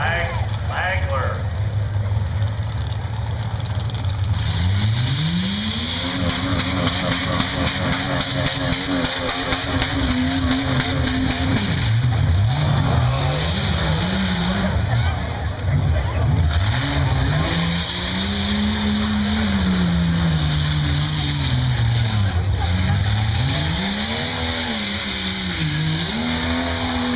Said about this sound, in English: driving a 98 Jeep Wrangler